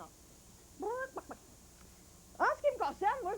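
Birds in an aviary chirp and call in two short bursts, the second busier and louder, over a low steady background hum.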